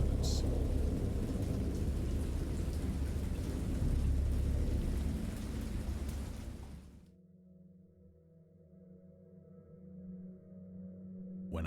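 Heavy rain and rumbling thunder from a storm at sea in the game Dagon, a loud dense downpour that cuts off abruptly about two-thirds through, leaving a faint low hum.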